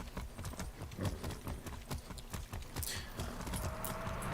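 Horse hooves clip-clop steadily while riding in Far Cry 6, a close, regular galloping rhythm with faint ambient game sound and no talk.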